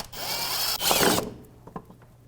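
Close, loud power-tool whirring takes out the transmission valve body bolts on a 2005-2010 Dodge Dakota, in two quick runs followed by softer clinks and mechanical handling.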